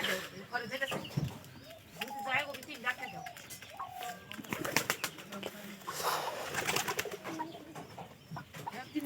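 Pigeons coo in low, soft, repeated throaty calls at close range in a backyard coop also housing chickens, while a person talks over them and occasional wing flutters and rustling mix in.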